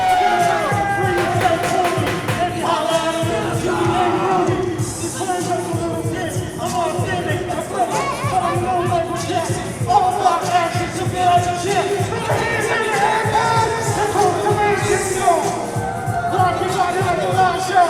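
A wrestling crowd cheers and whoops through a long ring entrance at an independent show, dense continuous roar and yells under loud entrance music, with a commentator talking over it.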